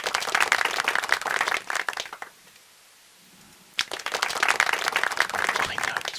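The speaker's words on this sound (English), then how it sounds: "in our music directory we now have the D Division clapping track, which I can do right click and play with media as player" Crowd applause from a recorded clapping track plays back on a PC, dense and continuous clapping that stops for about a second of near silence, then resumes just as full.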